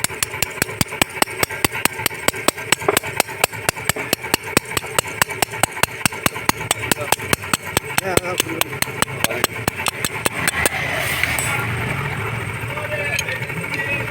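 Metal parts of a Hero Achiever motorcycle's gear shift spring assembly being worked as a lock is fitted, with rapid, regular sharp clicking and tapping close by over a running engine hum, continuing steadily before easing near the end.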